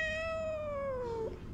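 An angry house cat gives a single long, loud, drawn-out meow that slowly falls in pitch and ends with a brief hiss, heard close and alone.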